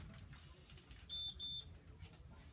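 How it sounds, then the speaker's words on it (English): Two short, high electronic beeps in quick succession from a Hilti PS1000 scanner, quiet against a low background hum. "wait for the beep"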